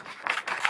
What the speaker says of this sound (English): and then cut your piece of paper